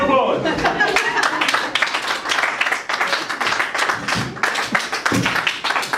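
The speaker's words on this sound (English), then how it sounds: "Give yourself a round of applause." An audience at a comedy gig breaks into sustained applause, many hands clapping densely and steadily, with voices calling out over the clapping.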